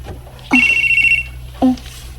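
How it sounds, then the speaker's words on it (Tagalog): A cellphone rings close and loud with a sustained electronic tone, then a second shorter burst, over a low steady hum, with no talking. "Ang cellphone ni Jason ni Bating."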